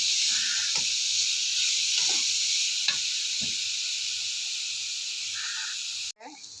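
Jackfruit frying in a pan with coconut, garlic and green chilli for idichakka upperi, a steady close sizzle with a few stirring scrapes, ending with a sudden clatter.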